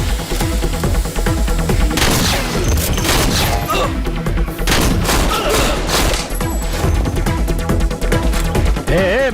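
Gunfire in a tense drama scene, a loud, dense barrage of shots, crashes and booming impacts filling nine seconds with hardly a pause, mixed with dramatic score.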